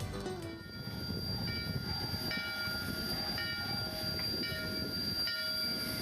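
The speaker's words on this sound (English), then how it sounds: "as the train leaves Silverton" Durango and Silverton narrow gauge train pulling out of Silverton, a steady rumble of rolling cars and wheels with a thin high squeal over it, moderately distant and continuous.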